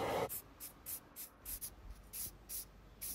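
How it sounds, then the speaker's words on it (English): Repeated short bursts of aerosol spray paint hiss onto an old cast iron Honda SS50 engine barrel in a loose rhythm, about ten quick puffs, close but quiet, with no speech. "It's really nice spraying an old cast iron barrel."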